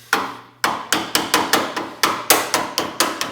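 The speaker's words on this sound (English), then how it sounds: "you can just use a hammer, chisel, old school. Just put that in there, tap it into place" Hammer striking a chisel to split a spot weld on a car shell, a series of about a dozen sharp metallic taps at a steady, slightly quickening rhythm, close and loud with no talking.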